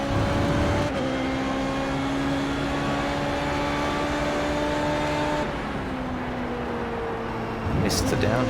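Formula Renault 3.5 racing car engine in iRacing at the Hungaroring, a loud steady high-pitched drone with a sharp pitch drop on a downshift midway and another shift near the end, a voice talking over it.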